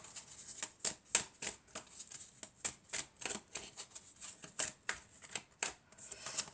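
Tarot cards shuffled by hand in quick irregular bursts of crisp riffling and slapping, close and fairly soft, going on without a break and with no talking over it.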